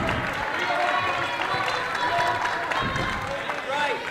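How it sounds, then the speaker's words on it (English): A crowd gives a standing ovation at a U16 boys provincial volleyball match, sustained clapping and cheering filling a gym, with a commentator talking over it. "a standing ovation from the crowd"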